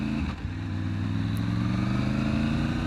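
A 2020 Triumph Tiger 900 motorcycle runs steadily up close, its engine note briefly dipping and jumping as the quick shifter cuts the motor for a clutchless gear change, then droning on alone.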